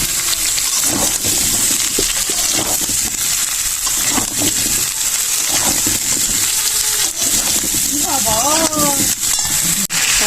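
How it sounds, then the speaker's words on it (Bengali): Potato and cauliflower fry with onion in hot oil, giving a continuous loud sizzle and hiss. Scattered stirring clatters and a brief voice-like sound come near the end. "পেঁয়াজের সঙ্গে আমি আলু ফুলকপিটা ভেজে নেব।"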